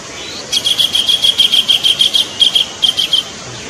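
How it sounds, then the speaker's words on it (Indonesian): A tengkek kingfisher calls in a quick run of about a dozen sharp, high chirps over three seconds. The calls are loud and close, with nothing else heard around them. "Burung apa dah? Tengkek."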